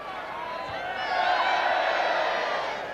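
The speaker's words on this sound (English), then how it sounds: "And just listen to the crowd." A football crowd at a European Cup Winners' Cup match against Legia Warsaw roars and cheers, a broad distant swell of voices that builds and holds under a commentator's talk.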